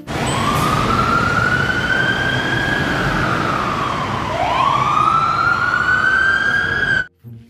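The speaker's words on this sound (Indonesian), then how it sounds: "lihat, teman-teman, ada pemadam kebakaran" A toy fire truck's electronic siren wails loudly and close, sweeping up and down in two long cycles before cutting off abruptly.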